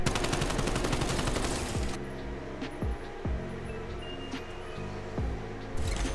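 Dense automatic gunfire in Call of Duty Cold War Zombies rattles loudly for about two seconds, then gives way to a quieter game bed with a few scattered shots and clanks.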